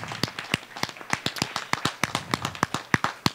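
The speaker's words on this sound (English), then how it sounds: "Please give yourselves a warm round of applause." Audience at a town hall clapping: a small crowd giving a steady patter of distinct, close handclaps, fairly quiet, with no talk over it.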